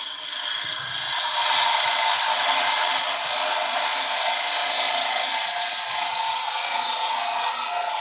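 A wood lathe spins steadily while a tool takes a final cut on a turned German smoker, giving a continuous loud whirring hiss with a slight rise in pitch after the first second.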